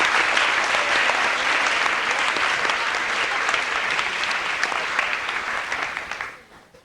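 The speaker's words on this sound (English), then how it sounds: "Let's give them one more round of applause" Steady, full applause from an audience at a 1995 high school football and soccer banquet at Warren High School, holding strong for several seconds before fading out at the end.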